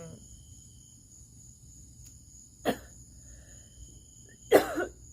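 Two short coughs, the second louder and followed by a brief rasp, separated by quiet with a faint high insect-like hum.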